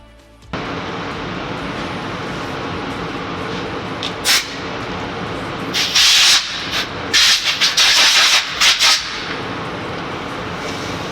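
A powder coating gun hisses steadily while spraying wrinkle black powder onto a valve cover. Several louder, breathy bursts of spray come in the second half, close and continuous with no talking.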